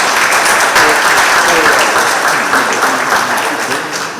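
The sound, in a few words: audience applause at party conference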